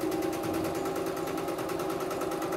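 A CNY E960 multifunction embroidery machine sews a straight stitch, making a steady, rapid mechanical whir and needle pulse that runs evenly and close up without a break.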